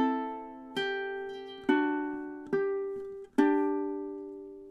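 A ukulele picks a song's melody, measures 13 and 14, with four or five clear plucked notes spaced about a second apart, each ringing and decaying, close and alone.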